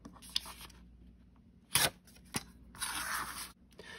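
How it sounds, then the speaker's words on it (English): Paper being torn along a metal ruler, with a few sharp ripping bursts and a longer tearing stretch near the end, close and fairly quiet, with no talking. "use a metal ruler as a tearing tool to cut straight lines"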